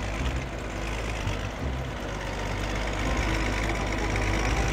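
Old tractor engine idling in the Farming Simulator 19 game, a steady low rumbling drone with a constant knocking throb, loud and alone with no talking.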